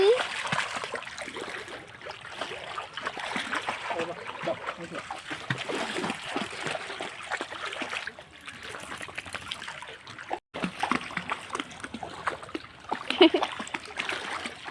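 A seven-year-old female dog plays in monsoon water, making repeated irregular splashes and trickles, close and fairly soft, with a short dropout partway through.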